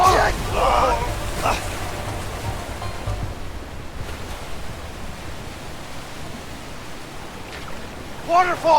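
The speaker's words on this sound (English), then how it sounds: "Waterfall!" A waterfall roars in the video game A Way Out, a loud broadband rush of water that fills the scene, with shouted voices over it at the start and end.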